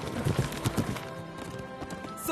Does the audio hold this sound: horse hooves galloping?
yes